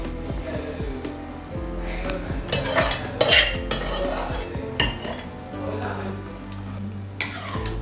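A spoon scrapes and clinks against a metal pot while Kerala-style chicken stew is stirred, with irregular knocks and a few louder metallic clatters, close up.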